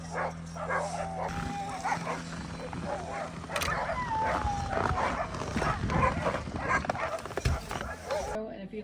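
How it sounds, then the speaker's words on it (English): Excited sled dogs in snowy Alaska bark and yip in rapid, overlapping bursts from a nearby kennel, layered with whines and steady chatter throughout. "You can probably hear the dogs barking."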